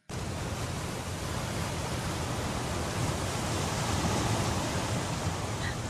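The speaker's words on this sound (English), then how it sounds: "I love how the waves wash away our footprints in the sand." Ocean waves wash steadily onto a sandy beach, a continuous broad rushing surf sound with no pauses or talk.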